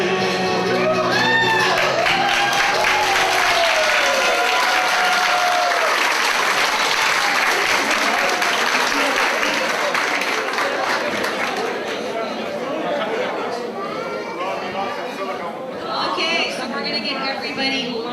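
Loud, sustained applause from a large crowd at a seniors club variety show, with cheers and shouts mixed in, fading slightly toward the end.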